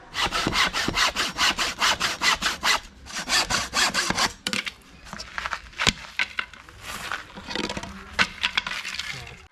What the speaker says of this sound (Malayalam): ആദ്യം നമ്മൾ 50 സെൻറ്റിമീറ്റർ നീളത്തിൽ ഇതേപോലെ 4 പീസ് നമ്മൾ കട്ട് ചെയ്തെടുത്തിട്ടുണ്ട്.